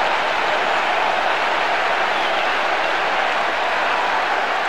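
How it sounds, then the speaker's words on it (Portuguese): Dense, steady stadium crowd applause and roar in the Pro Evolution Soccer 6 football game, loud and continuous without pause. "Aplaude de pé."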